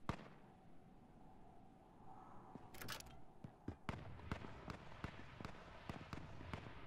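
Gunshots ring out in H1Z1: King of the Kill, a series of sharp cracks that start sparse and then come in a quicker, steadier run, fairly distant and moderate in level, with no talking.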